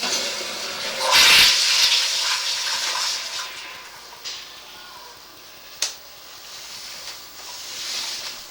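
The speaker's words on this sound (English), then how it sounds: "flush the toilet" A toilet flushes in a building with ABS drain lines, a loud rushing gush near the start that fades into a long trickling refill with a couple of small clunks.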